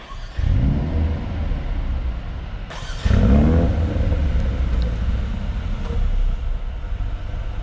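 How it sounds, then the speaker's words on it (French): A 2019 Mercedes A35 AMG starts with the left paddle held: a loud engine catch and rumble, a brief flare of revs at about three seconds, then a steady, close, deep idle to the end. "si j'appuie sur la palette de gauche et que j'appuie sur le bouton pour démarrer"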